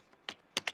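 Typing C code on a computer keyboard: a few quick, crisp keystrokes, one soft tap followed by a firmer one and then a close double tap, nearby and otherwise quiet.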